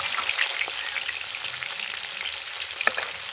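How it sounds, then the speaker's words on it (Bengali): Live crabs fry in hot oil with a bright, continuous crackling sizzle, close and steady, with occasional small pops and no voices. "আমি এবার কাঁকড়াগুলো দিয়ে দেবো কাঁকড়াগুলো ভালো করে লাল লাল করে কিন্তু ভাজবে"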